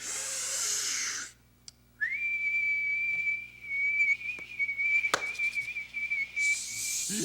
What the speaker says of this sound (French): on peut siffler nous aussi